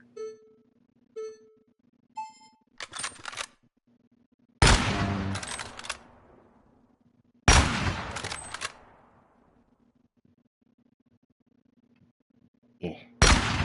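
Gunshots in Gunsmith Simulator, a few loud, sharp reports with long decaying tails, widely spaced and preceded by soft game tones and mechanical clicks, with quiet gaps between.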